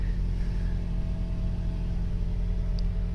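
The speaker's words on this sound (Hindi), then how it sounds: "तो गाड़ी स्टार्ट हो गई यार।" Toyota Vellfire engine idling steadily just after starting, a low continuous hum with no voices, close by and unchanging for a few seconds.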